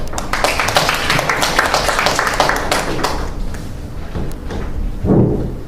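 Audience applause at a public policy forum, a dense wash of many hands clapping that fades out, followed by a short stretch of quieter room sound.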